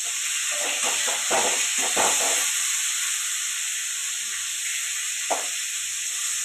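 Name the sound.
cauliflower deep-frying in oil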